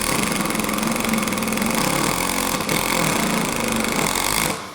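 A Milwaukee M18 compact brushless impact driver runs steadily at a lower speed for several seconds, a loud, close, even buzzing hammer that cuts off at the end, with no talking.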